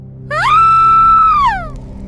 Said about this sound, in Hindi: पीछे से एक भयानक चीख सुनाई दी